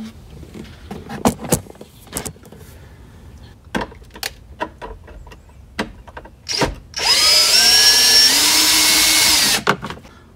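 A power tool, likely an impact driver, zips out 8mm bolts in the cargo area of a 2007–2014 Ford Expedition, with scattered clicks and handling knocks first, then one loud sustained whirring burst near the end.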